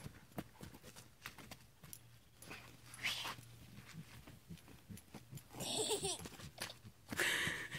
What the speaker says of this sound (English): Do you hear him snorting?